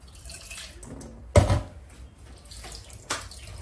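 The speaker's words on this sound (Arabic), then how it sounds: "ازود حبه ميه بس." Water is poured in a short splash into a pot of lemon pickle mixture being cooked on the stove, with faint drips and kitchen clatter around it and another brief splash afterward.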